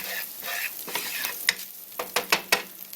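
Garlic browning in a pan with meat drippings, a continuous sizzle broken by several sharp spoon scrapes and clicks against the pan, close up and without voices.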